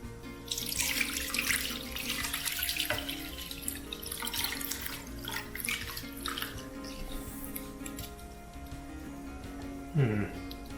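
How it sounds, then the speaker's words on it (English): Brine pours over pork in a kitchen, a running, splashing stream of liquid that is loudest early and tapers off, with a brief clatter near the end. "Now we're going to cover the pork with the brine."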